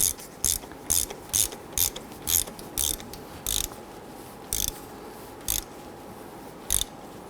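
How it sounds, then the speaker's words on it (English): A hand ratchet snugs a coolant temperature sensor into a 1997-2006 Jeep Wrangler engine, giving about a dozen crisp, close clicking bursts in an irregular rhythm with no talk. "thread that in, and let's go ahead and snug that down."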